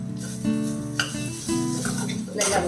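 Coriander leaves stirred into raw banana mash frying in coconut oil with ginger and green chilli, a steady close sizzle with spoon scrapes against the pan.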